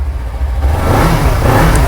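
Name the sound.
Kawasaki Ninja SS motorcycle engine revving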